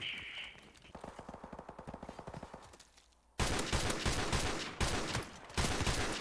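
Gunfire from the video game Modern Warfare Remastered: a quieter run of evenly spaced shots, then a sudden, much louder stretch of rapid automatic fire broken by a couple of short pauses.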